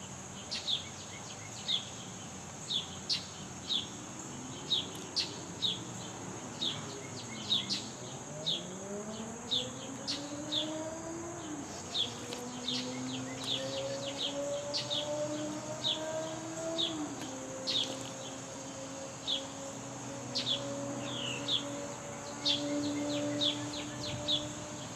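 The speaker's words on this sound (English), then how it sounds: "The birds are trying to tell us something." Birds chirp and sing outdoors in a steady series of short, bright calls, with a rising and falling siren-like tone sweeping underneath.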